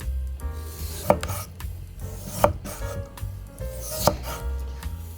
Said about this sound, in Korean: 이걸 얇게 편으로 썰어주세요. 최대한 얇게.